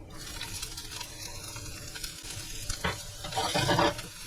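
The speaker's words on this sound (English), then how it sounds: "just let it cook until the onions get soft" Roughly diced onion cooks in a pan over a gas stove, giving a close, soft continuous sizzle with occasional stirring scrapes that swell briefly toward the end.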